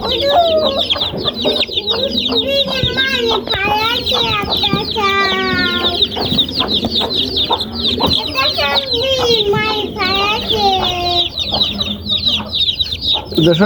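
Loud, constant high-pitched peeping from a group of native chicken chicks close by, with some lower clucking mixed in.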